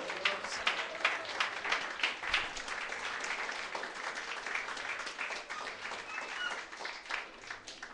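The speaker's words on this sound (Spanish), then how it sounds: "Un aplauso al Señor." A church congregation claps together in praise, a dense, steady wash of applause that keeps going at an even level with no clear pauses.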